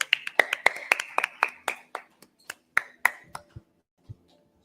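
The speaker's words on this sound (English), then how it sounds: "let's give them a round of applause" Scattered handclaps from a small audience at a precision medicine event, a quick burst of sharp claps that thins out and stops within a few seconds.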